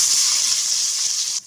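Onions hit hot oil with popped mustard seeds for a spicy okra fry, giving a loud, steady sizzling hiss that cuts off abruptly near the end.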